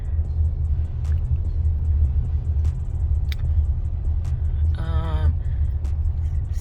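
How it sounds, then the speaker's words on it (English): A car drives along a beachfront road near Myrtle Beach, heard from inside as a steady low engine and road rumble, with a brief tonal whine and a few clicks over the constant drone. "So we're still riding down the beachfront road"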